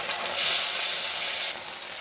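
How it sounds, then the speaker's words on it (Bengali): Poppy seed paste frying in a wok over already-fried onion paste, a steady close sizzle with a brief louder burst of hiss, no talk. "আমার পেঁয়াজটা ভাজা হয়ে গেছে, আমি এবার দিয়ে দেবো পোস্তটা"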